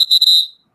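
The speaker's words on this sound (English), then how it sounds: "you throw the flag, blow the whistle on Daphne" A referee's whistle gives one sharp, shrill blast lasting about half a second, close and loud with no talk over it, in a playful football-rule setting.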